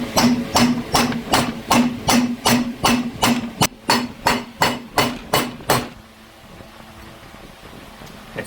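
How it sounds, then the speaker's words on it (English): A copper hammer taps a bearing into a clean cover on a neglected BMW S1000RR motorcycle engine, striking about fifteen loud, evenly spaced metallic blows up close before stopping into quiet. "That's why we use a copper hammer"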